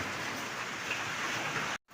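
Steady, dense rainfall pours down with a constant hiss, loud and unbroken, then cuts off abruptly near the end.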